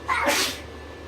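One sharp sneeze bursts out close up, brief and explosive, fading into quiet room noise.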